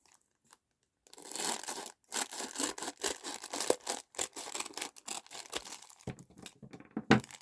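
Paper packaging is cut and trimmed for a handmade index card booklet, giving loud, close, continuous rasping and crinkling strokes that run in bursts after a brief silence, with no voices.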